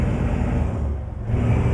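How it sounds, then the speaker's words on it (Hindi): Low, heavy rumble of a Ford F-Max truck engine under full acceleration in Euro Truck Simulator 2, driving in heavy rain; a dense, steady drone with a slight dip midway, no talk. "इसका फुल एक्सेलरेशन दे और देख कितनी मजेदार आवाज।"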